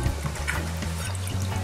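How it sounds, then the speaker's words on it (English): Water poured off boiled salt mackerel in a pot, a steady continuous pouring and trickling stream close by, with no talk over it. "So now we're gonna just throw off the water"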